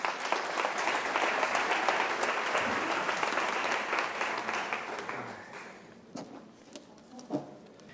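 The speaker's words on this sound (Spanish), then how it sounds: "Fuerte aplauso." An audience at a public lecture breaks into loud, sustained applause to welcome the speaker, then the clapping thins out and fades into a few scattered claps.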